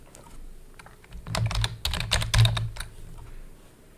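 Typing on a computer keyboard while filling in an Indian passport application form online, with a quick burst of close, crisp key clicks in the middle and quieter taps before and after, no talking.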